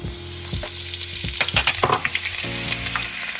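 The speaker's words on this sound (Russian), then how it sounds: "Продолжаем лучок обжаривать." Steady sizzle of onion frying in butter in a hot pan, with a few scraping stirs of a utensil midway.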